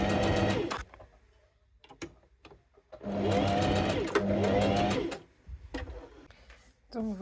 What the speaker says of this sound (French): on se remet en place et on peut continuer notre couture